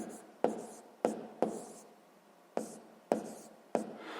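Pen or pencil writing out a math solution step on paper: a series of sharp scratchy strokes and taps at irregular intervals, close and fairly quiet, with no talking.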